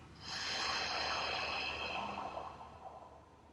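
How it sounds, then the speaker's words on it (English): A long, slow exhalation, breathed out close to the microphone in a steady airy rush that swells and then fades away gradually, alone with no talking. "Hold your breath. And breathe out."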